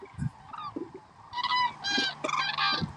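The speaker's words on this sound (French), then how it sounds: "Des grues cendrées." Common cranes calling, several trumpeting bugles in a burst, moderately close, following quieter scattered sounds and faint low murmurs.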